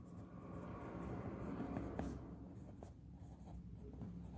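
Pen scratching across paper as a math solution for a coin-shaped cylinder problem is written out by hand, close and quiet with small irregular strokes.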